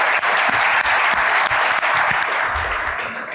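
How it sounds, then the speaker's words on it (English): Steady, dense applause from a conference audience, loud and sustained with no talk over it, gradually thinning toward the end. "Round of applause, please."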